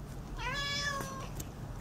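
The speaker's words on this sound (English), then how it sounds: "Meow." A pet cat meows indoors, a single drawn-out harmonic meow lasting under a second, fairly close and clear over quiet room noise, followed by faint background sounds.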